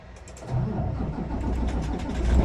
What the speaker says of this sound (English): Now I'm going to push in the clutch and turn on the truck.